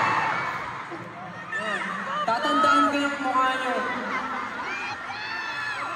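Crowd at a finale concert, standing VIP section, screaming and cheering excitedly, loud and sustained, with a voice on a microphone talking over the shrieks.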